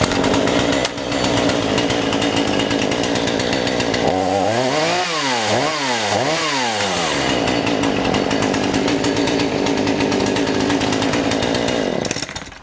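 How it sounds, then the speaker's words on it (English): A Stihl or Husqvarna chainsaw engine with a carburetor that bogs down roars continuously at close range, revving up and down several times in the middle before settling back to a steady run. "I'm just going to start it here again just to see how this goes."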